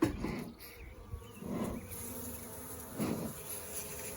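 Honeybees buzz faintly around an open hive being smoked during an inspection, a soft, wavering drone with a few louder swells, alone without voices.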